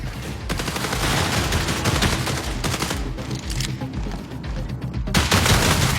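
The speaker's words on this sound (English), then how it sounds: "The sidearm is a gun that is effective in close quarters, but maybe not too much outside of that." Rapid, continuous gunfire from a sidearm in the video game Marathon, dense bursts of close shots with a brief lull before the firing resumes loudly.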